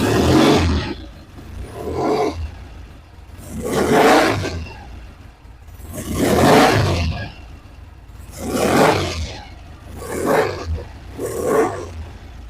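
A Norton motorcycle engine idling, its loud, rough roar swelling and easing in a steady cycle of about six surges that keep a constant low rumble between them, with no voices.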